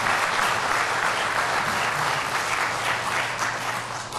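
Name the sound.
congregation applauding in church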